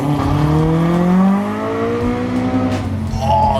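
A Mk2 Ford Escort with a swapped-in Toyota engine accelerates hard. It makes a loud, close, rising engine note that climbs steadily through the revs, then drops at a gear change and begins climbing again.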